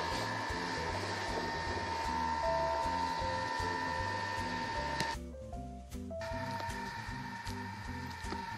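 A Thermomix food processor heating soup at 100 degrees on speed 3 gives a steady motor whir with rhythmic low churning pulses and tonal hum. A brief drop in level partway through precedes the same running sound resuming.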